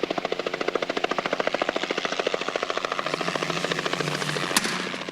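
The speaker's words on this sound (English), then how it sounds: "the helicopter touches down only for brief refueling stops." A medical rescue helicopter's rotor chops steadily and loudly throughout in the African bush, a fast rhythmic thudding from an aircraft close overhead with engine whine beneath.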